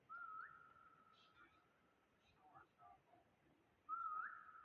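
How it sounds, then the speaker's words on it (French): Whistled notes in the Roblox game SCP-3008, set in an endless IKEA-like store, used to lure its creatures: a steady whistle at the start, a sharper rising one near the end, with faint voices murmuring between them. "Viens, on fait que siffler."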